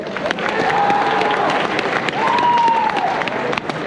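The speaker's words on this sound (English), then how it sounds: "Give yourself a round of applause." An audience at a state skills competition for heavy equipment operators bursts into sustained applause and scattered cheers, a voice rising briefly above the clapping crowd.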